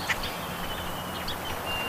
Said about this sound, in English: call ducks in for him to shoot